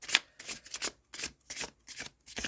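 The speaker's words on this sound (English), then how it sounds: "This is going to be easy, this riffle shuffle." Riffle shuffling of bendy tarot cards in quick bursts: several short crackling flutters separated by brief pauses, close and fairly quiet.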